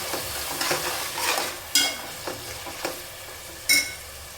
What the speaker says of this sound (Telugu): ఉల్లిపాయ తొందరగా మగ్గడానికి కొంచెం పసుపుని కర్రీకి సరిపడినంత ఉప్పుని వేసుకుంటే ఉల్లిపాయ అనేది తొందరగా మగ్గుతుంది ఒకసారి మిక్స్ చేసుకుందాం